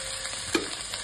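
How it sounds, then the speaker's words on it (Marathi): A spice tempering crackles in an iron pan, a soft steady sizzle with one brief louder pop midway, heard close with no voices. "हे तडतडणं इतकं महत्त्वाचं असतं"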